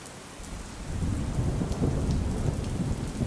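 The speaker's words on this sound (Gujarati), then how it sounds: "અમદાવાદના અનેક વિસ્તારોમાં વરસાદી છાંટા અને ધીમી ધારે વરસાદ છે" Rain falls steadily in Ahmedabad, a continuous hiss of drops on surfaces, with a low, rumbling wash that grows louder after the first second. No voices.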